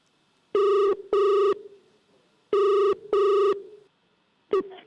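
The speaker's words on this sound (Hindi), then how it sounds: "तो कॉमेडी सर्कस 2020 के सेट से वो करेंगे एक live phone call struggling actress सुरीली को।" A telephone rings on the set of a Comedy Circus 2020 comedy show, two loud pairs of bell-like electronic rings separated by a pause, followed by the start of a third, with no voices.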